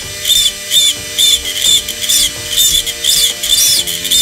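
A rotary tool fitted with a dental bit carves in short, regular bursts of high-pitched whirring grind, about eight close, loud passes separated by brief pauses, over a faint steady motor tone.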